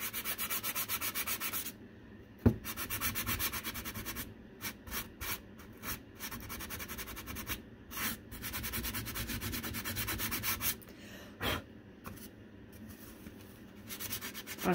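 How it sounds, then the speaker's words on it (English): Excess material is sanded off a St. Patrick's Day craft piece by hand, with short rasping strokes in an uneven rhythm broken by brief pauses, close and quiet. "So then all the excess, you just sand it right off."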